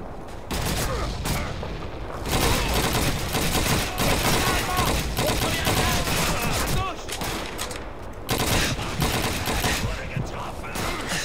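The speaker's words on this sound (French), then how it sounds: "Mais qui c'est qui me tire dessus là?" Dense, continuous gunfire from a World War II battle in the video game Call of Duty 2: rapid rifle and machine-gun bursts crackle almost nonstop for the whole stretch, loud and close, with a few brief lulls between volleys.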